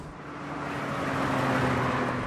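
A Smart Roadster sports car accelerates with a rising engine drone that builds steadily in loudness, heard close and alone.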